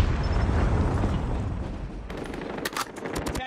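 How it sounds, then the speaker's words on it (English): A Predator missile strike in a first-person shooter game, heard as a sustained, loud roar of blast rumble, then a burst of sharp, rapid gunfire-like cracks near the end. "Predator missile inbound."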